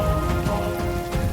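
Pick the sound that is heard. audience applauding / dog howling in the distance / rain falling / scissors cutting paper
rain falling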